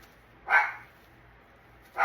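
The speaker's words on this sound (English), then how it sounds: "My dog's letting me know that somebody's here." A dog barks at someone arriving home, two single sharp barks about a second and a half apart, fairly close, with quiet in between.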